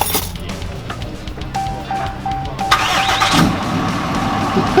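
A Cummins diesel pickup truck engine cranks and catches, settling into a loud, close, clattering idle after a short starter whir and a few clicks.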